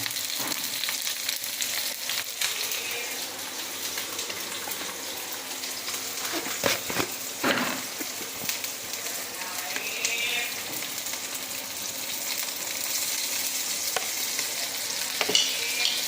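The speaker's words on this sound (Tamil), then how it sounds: "வதங்கட்டும் நல்லா வதங்கி வருது" Onions and green chillies sauté in a pan with salt, a steady close sizzle broken by a few clattering stirs, with no talk over it.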